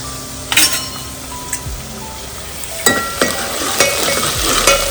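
Pomfret fish frying in hot oil in a Konkan home kitchen, a steady crackling sizzle with scattered clinks and scrapes of a utensil stirring, close and moderately loud, with no talking.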